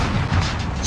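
Stun grenade going off in Call of Duty Warzone, a brief, loud, muffled boom with a dense low rumble and no voices.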